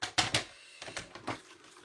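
Paper trimmer slicing white cardstock for a handmade card: several short, crisp cutting and clicking strokes in quick succession, close and fairly loud, with no talk.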